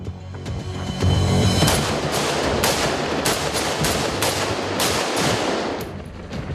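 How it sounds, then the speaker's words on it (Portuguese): Springfield M1A1 .308 sniper rifle fired at body armor, a rapid series of loud, sharp cracks in quick succession with no talk. "Este é um fuzil Springfield M1A1, calibre .308."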